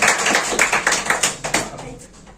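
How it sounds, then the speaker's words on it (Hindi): A group of listeners claps in a lively burst of about a dozen sharp, even beats, loud and close at first, then fading toward the end. "चलिए जोरदार ताली बजाते हैं।"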